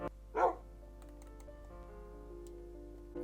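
A Minecraft wolf lets out a single short bark near the start, followed by quieter clicks and game ambience, with a faint second burst at the end.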